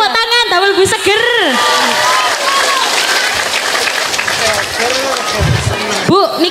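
Applause from a crowd at a Ramadan gathering swells into steady, loud clapping for several seconds, with a voice talking over the start and end.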